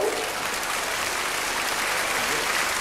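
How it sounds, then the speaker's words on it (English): A theatre audience at a Ken Dodd comedy show breaks into applause: a loud, continuous roar of many clapping hands that stays even and full from start to finish. "How do you get a round of applause for that?"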